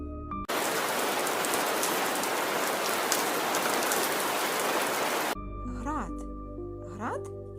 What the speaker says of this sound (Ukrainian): ті крапельки падають на землю у вигляді дощу